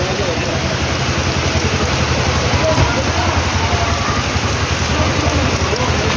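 Heavy rain pours steadily onto a flooded field, a dense continuous hiss and patter that stays loud throughout without a break.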